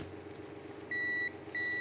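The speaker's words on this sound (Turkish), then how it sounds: "Şurada buzzer konumunu alıp bakabilirsiniz." A steady electronic beep from a multimeter's continuity buzzer sounds twice while testing a BNC camera cable, a longer tone then a second after a short gap, clear over a low background hum.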